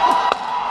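Short burst of audience cheering and clapping at a Tamil film event, crowd noise with a shout and a sharp clap accent, loud and close.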